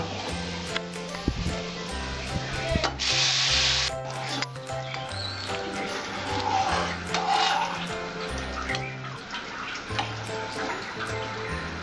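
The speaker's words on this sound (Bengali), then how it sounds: "এবার আমি ডালটা ঢেলে দেব।" Lentils for a Bengali-style sour dal with raw mango are poured into a hot pan, giving a steady watery rush and splash with a light sizzle underneath, close and continuous for several seconds.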